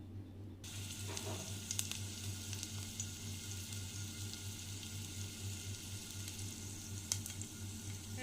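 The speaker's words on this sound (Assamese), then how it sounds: "এতিয়া আমি পোখা শাকখিনি ভাজিম। তাৰ কাৰণে এটা বেলেগ কেৰাহী পাতি লৈছোঁ।" Pokha greens fry in a separate wok, giving a faint, steady sizzle under a low constant hum, with a few soft clinks of stirring.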